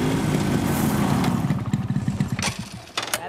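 A motorcycle engine runs close by with a steady low rumble for the first second and a half, then turns choppier and pulsing with a couple of brief sharp rattles near the end.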